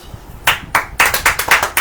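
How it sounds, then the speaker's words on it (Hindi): A church congregation claps at a sermon service, starting with a few sharp separate claps and then building into a loud, quick run of claps close by. "ताली हो जाओ।"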